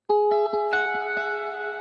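Lead guitar playing a short phrase of single picked notes and a sustained chord, drenched in heavy reverb so each note rings on and trails off; loud and clear with no talking.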